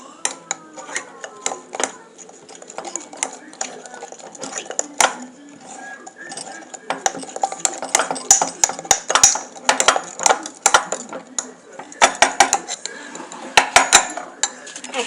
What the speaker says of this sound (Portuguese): E agora vamos misturar.